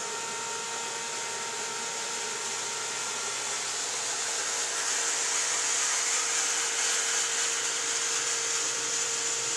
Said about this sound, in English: sorry for the noise, that's my well kicking on